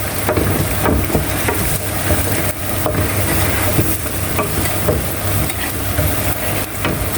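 Vegetables and onions being sautéed in oil in a pan, with a steady close sizzle and frying hiss throughout, broken by repeated stirring scrapes and clatters of a utensil against the pan.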